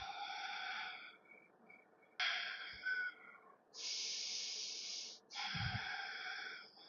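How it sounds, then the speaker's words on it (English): A slow, audible exhale during a vinyasa yoga flow, breathy and airy, heard alone and quite close with soft hissing breath sounds around it. "Breathing out."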